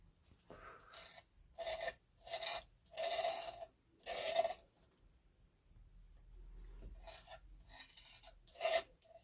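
A glitter felt pen scratches across paper in repeated rough strokes, each about half a second long, with a faint close raspy texture and short pauses between them.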